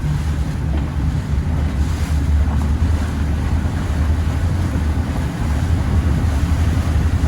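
A boat running on open water while speeding up, with a steady loud rumble of engine, wash and wind noise throughout.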